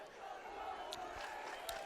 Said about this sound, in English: Trojan crowd still trying to keep them into the game.